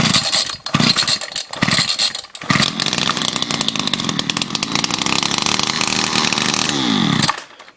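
A Homelite engine, run with the choke and a muffler needing cleaning, sputters through several cold-start pulls, then catches and runs loud and steady for a few seconds before cutting off.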